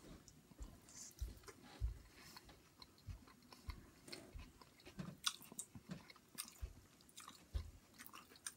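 Close, faint chewing of a bite of Papa John's extra large original crust cheese pizza topped with seeds, soft irregular crunches and mouth sounds spread across the quiet stretch with no talking.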